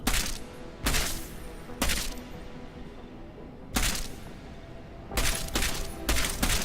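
Bursts of automatic gunfire firing EMP rounds in the video game Deus Ex: Mankind Divided, loud sharp volleys repeating in clusters with brief pauses between.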